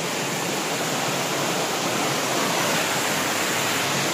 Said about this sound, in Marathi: अरे बघा हे आपलं व्हाळ म्हणजे ज्याका मराठी शुद्ध भाषेत ओहोळ बोलतात.